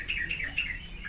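Songbirds at a songbird farm chirp in short, bright, repeated calls over a steady low background hum, fairly close and continuous with no talking.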